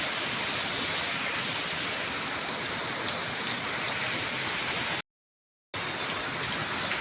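Steady rain falling hard, a continuous loud wash of drops, briefly cut to silence near the end before resuming.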